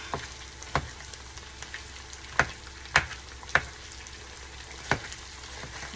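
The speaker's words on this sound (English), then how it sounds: "Now we're just going to stir this" Cream cheese melts in a pan for keto crab rangoon while a spoon stirs it, giving a faint steady sizzle under several sharp, separate scrapes and taps against the pan.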